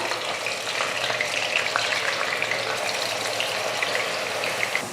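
Onion paste with curry leaves frying in hot oil in a kadai for chicken gravy, a dense, continuous, close sizzle and crackle with faint spattering, no talk.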